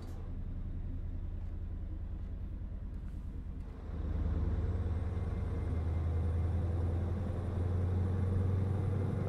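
A Scania truck in Euro Truck Simulator 2 drones with a steady low engine rumble that swells louder partway through and holds a constant, close, continuous hum.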